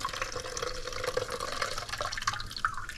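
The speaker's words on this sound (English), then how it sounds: "See that rich milk that's coming out of there?" Rich homemade nut milk dripping from a nut milk bag, a steady liquid patter and trickle close by with no talking.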